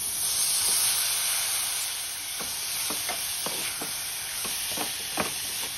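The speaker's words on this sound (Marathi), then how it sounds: "टोमॅटो फ्राय झाला की याच्यामध्ये मिक्स भाज्या घालायच्या।" Tomato fried together with peas, carrots, beans and cauliflower, giving a continuous close hiss and sizzle, with a steady series of spatula scrapes and taps against the pan and no voices.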